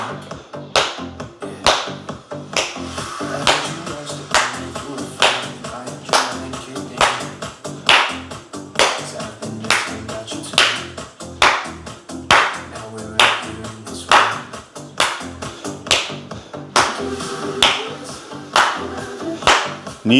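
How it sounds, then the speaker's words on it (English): Sharp hand claps repeat at a steady, even beat throughout a side-step cardio routine in a beginner workout, loud and close with almost no talk over them. "Final round, side step clap."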